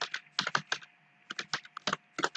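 Quick keystrokes on a computer keyboard during web page editing, arriving in short irregular bursts of close, crisp clicks with brief pauses between them.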